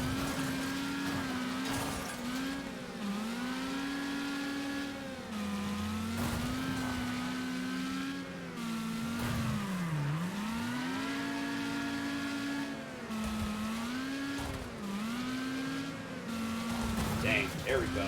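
Engine revving and braking in a racing video game, the motor note rising and falling in repeated swells with brief dips as the car slows for turns, running continuously under a voice.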